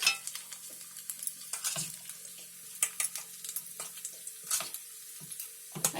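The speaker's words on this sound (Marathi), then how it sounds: "आता मी त्याच्यामध्ये भजी सोडते." Small spoonfuls of bhaji fritter batter dropped one after another into hot frying oil, each landing with a sharp close splash and sputter over a low bubbling sizzle, no voices.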